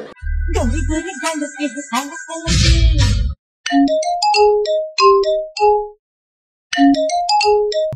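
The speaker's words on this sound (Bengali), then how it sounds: "তোমারই তো ফোন আইছে, ফোনটা বাজতেছে" A mobile phone ringtone plays a melodic sequence of bright electronic tones in short phrases, interrupted by brief pauses, loud and near over a low background rumble.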